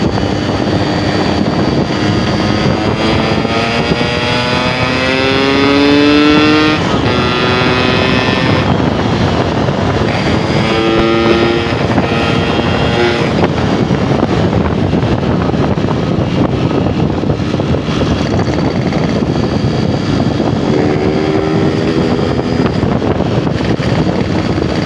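A Yamaha RX two-stroke motorcycle engine runs continuously while riding, its buzzing note rising and falling with throttle changes, heard up close under heavy wind rush.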